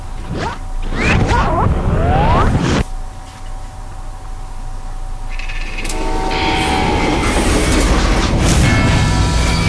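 A train runs on rails in the video game Call of Juarez Gunslinger, with a loud, steady rumbling clatter and some brief tonal squeals or whistle-like notes near the start.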